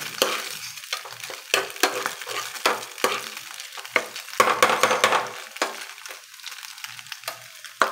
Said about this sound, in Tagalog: Chicken ham itong niluluto natin.